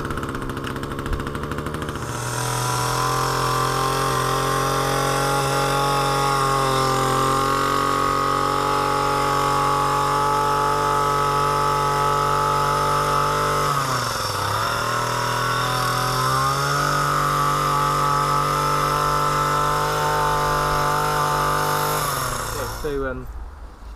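A £99 petrol hedge trimmer cutting a hedge with a short blade: a loud, steady two-stroke engine drone held for about twenty seconds, dipping briefly midway as it bogs under load before recovering, then cutting off at the end.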